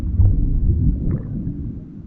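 A water splash slowed and pitched down two octaves with its high end stripped away becomes a deep, muffled rumbling whoosh that swells and fades over two seconds, heard alone.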